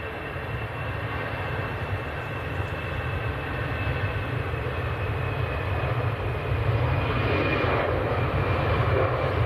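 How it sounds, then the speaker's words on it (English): An EasyJet airliner bound for Amsterdam at Manchester Airport gives a steady, loud engine roar that holds without a break across the whole stretch. "This is EasyJet to Amsterdam."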